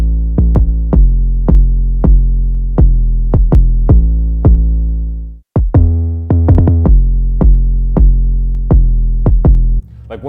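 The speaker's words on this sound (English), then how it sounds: "I'll show you the kick pattern. That's with the 808s." 808 kick drum pattern in a hip hop beat, deep booming kicks with long tails hitting in a steady syncopated rhythm alongside snappy percussion, loud and close, with a brief dropout in the middle.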